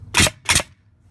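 A Metabo NR83A5 framing nailer dry fires twice, two sharp, near pneumatic snaps about a third of a second apart, each with a brief hiss tail, followed by quiet.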